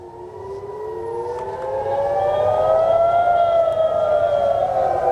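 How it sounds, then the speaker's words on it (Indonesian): A loud air raid warning siren in Haifa, Israel, wails steadily, its rising and falling tones swelling and holding at full volume throughout, with no voices. "Sirine peringatan terdengar di berbagai wilayah termasuk di kawasan pelabuhan utama di Haifa."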